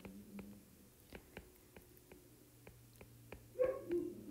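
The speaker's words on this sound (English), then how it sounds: "if you can hear my neighbor's dog barking" A few short, muffled barks from a neighbor's dog in the distance, scattered irregularly over a quiet background, with a slightly louder cluster near the end.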